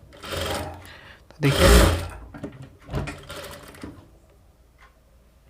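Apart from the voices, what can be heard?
sewing machine stitching a princess cut blouse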